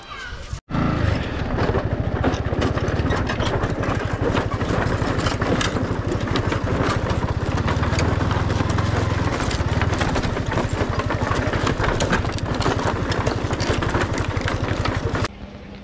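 A motorcycle engine starts with a brief click and then idles loudly and steadily close by near a bridge, a continuous rough rumble throughout.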